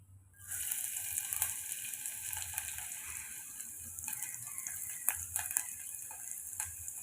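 Steady hot-oil sizzle with mustard seeds, cumin and a cinnamon stick spluttering, scattered sharp pops and crackles over a constant frying hiss, close and continuous.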